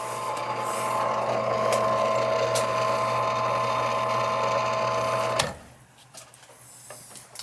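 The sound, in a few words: struggling AC condensate pump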